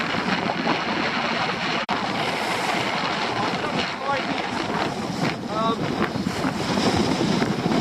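Strong wind blowing over a boat at sea during stormy weather, a dense, loud broadband rush with buffeting and splashing water, one sharp knock partway through, and a few faint whistling tones later.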